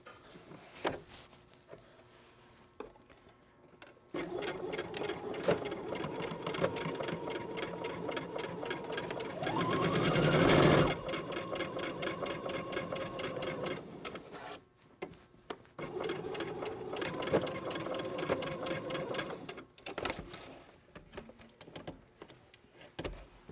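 A sewing machine stitches a shirt dart from the top down to the point, a steady close whirr in two long runs with a short break between them and a brief louder scrape partway through.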